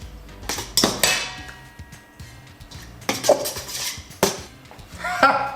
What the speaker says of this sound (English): We mix them, and we mix them. We give them a nice good stir.